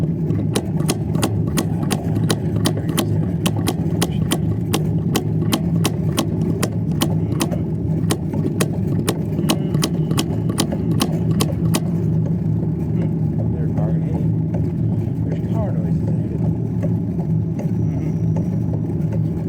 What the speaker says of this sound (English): Car noises ahead of me.